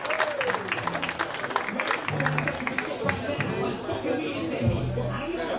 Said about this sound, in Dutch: Vraag ook een daverend applaus voor Jalal Ahmadi.